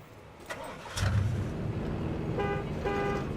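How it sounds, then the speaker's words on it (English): A vehicle horn honks in Jurassic World Evolution 2 over a steady engine rumble, giving two short toots near the end of the clip. "I meant to hit the horn."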